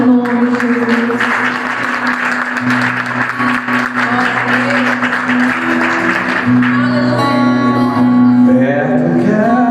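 A church congregation applauds during worship, a broad wash of clapping over sustained organ or keyboard tones. The crowd stays steady for most of the stretch, then the music comes forward as the clapping thins toward the end.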